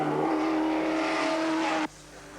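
Racing cars at the 1981 Bathurst race, a Camaro among them, roar loudly at high revs in a sustained strained drone that cuts off abruptly near the end.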